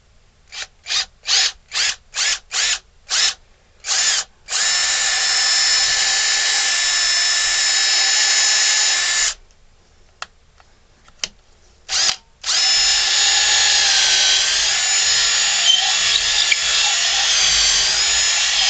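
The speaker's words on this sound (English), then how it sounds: "I'm going to use a 1/4 inch drill bit." A power drill with a 1/4 inch bit whirs in a quick series of short bursts, then runs in two long, steady, loud stretches biting into wood, with a brief pause between.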